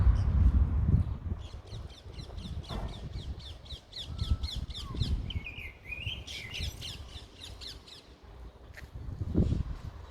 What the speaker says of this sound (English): Young crow.